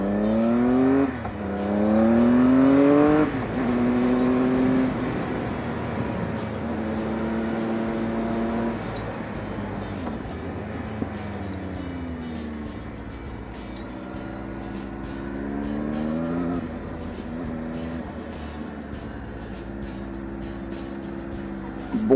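A Triumph Speed 1050 RS motorcycle with around 150 horsepower accelerates hard up a climb, engine pitch rising through several gear changes, then cruising and revving again through bends, heard close from the rider's position with wind noise.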